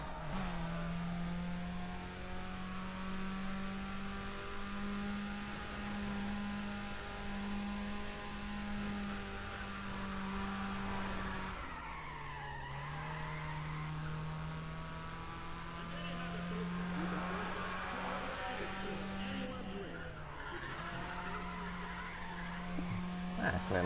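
A Nissan 350Z in the racing game Need for Speed ProStreet revs and drives, its engine note holding, dropping as gears shift, then climbing again, with tire squeal and someone talking over it.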